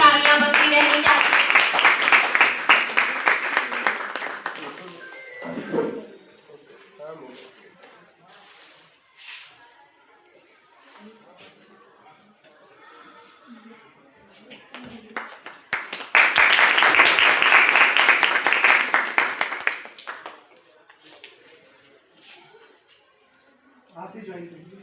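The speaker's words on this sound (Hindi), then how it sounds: "कृपया जोरदार तालियां बजती रहनी चाहिए।" Loud audience applause at a birthday celebration event, a dense burst of clapping for several seconds, then quieter talk and movement, followed by a second strong round of clapping.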